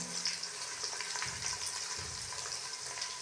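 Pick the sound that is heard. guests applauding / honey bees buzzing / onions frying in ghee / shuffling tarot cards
onions frying in ghee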